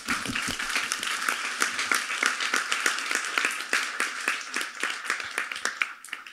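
An audience claps steadily and densely throughout, a sustained round of close, crisp applause with no talk over it.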